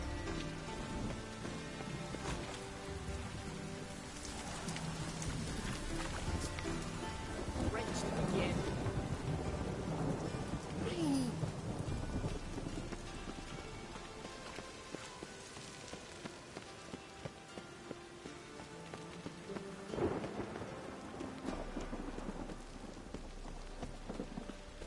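Steady rain patters down in The Witcher video game, with low rumbles of thunder rolling through the storm. Spoken game dialogue sits over the rainfall at times.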